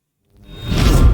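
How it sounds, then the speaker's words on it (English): A whoosh effect swells from silence into a dense, rising rush, building quickly and loudly as if energy is charging up. "I also used whooshes here a lot for the charging of the lightning bolt"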